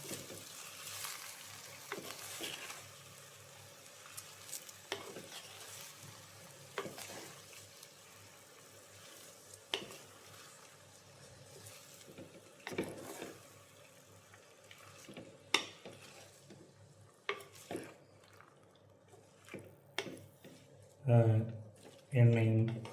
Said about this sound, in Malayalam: ഇതൊന്ന് ഇളക്കുക.